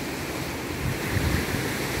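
Sea waves wash onto a gently sloping sandy beach at Suan Wang Kaew in a steady, continuous broadband roar, with some wind noise on the microphone and no voices.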